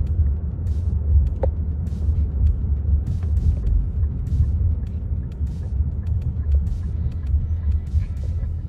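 A new car is driven fast on a test drive, its engine and road noise forming a loud, steady rumble from inside the cabin with faint knocks and clatter, and no talking.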